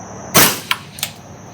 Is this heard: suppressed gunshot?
yes